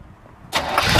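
Near silence, then a 1965 Chevrolet Corvette's 327 V8 engine (365 hp) cranks and catches halfway through, bursting into a loud, rough roar.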